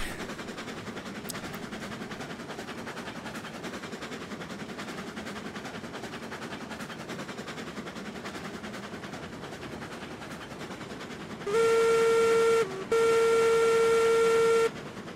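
Cooke Mogul steam locomotive in Railroads Online, a steady rumbling chug under constant background noise, then a loud steam whistle blast in two long pulses with a short break between them near the end.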